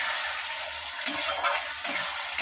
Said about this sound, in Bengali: সাথে একবারে আলু যেহেতু ভাজা নেই কষিয়ে নেব।